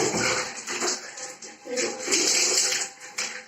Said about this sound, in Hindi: ये देखिए बालों को इस तरीके से धोया जाता है